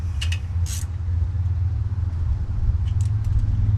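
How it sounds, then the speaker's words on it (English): Hardware being tightened on a Predator 212 engine's CDI performance ignition, timing set near 32 degrees: a few brief, close metallic clicks and ratchet-like ticks over a steady low mechanical hum. "Tighten those down so that thing won't move."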